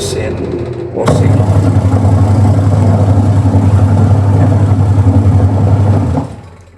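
Wash motor of an AQUA QW950XT twin-tub washing machine starting up after a click, a loud steady low hum with a churning drone for about five seconds before it winds down, with someone talking over it.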